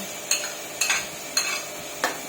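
Sliced garlic hitting a hot pan beside chicken feet, with four sharp scraping stirs at regular intervals over a steady, close background sizzle.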